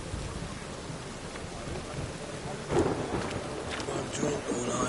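Rain and thunder in the video game The Witcher 3: a steady rain hiss runs throughout, with a louder rumbling thunder swell near the middle and faint scattered sounds afterward.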